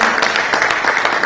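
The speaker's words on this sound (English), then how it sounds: "So I think you should give him a round of applause." Audience in a conference hall applauding a food supply startup founder from Nigeria, a dense steady patter of many hands clapping, fairly loud and continuous.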